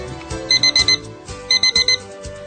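A kitchen timer set for a baking countdown rings with two bursts of rapid, loud, high-pitched beeps, each a quick run of about four tones, separated by a short pause over quiet background sound.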